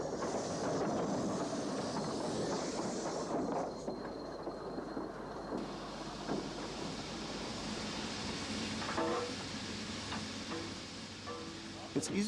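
A blue diesel rail car runs on a Portuguese branch line with a loud, steady rumble throughout. Wheel clatter and wind noise run underneath, and a few sharper clicks come toward the end.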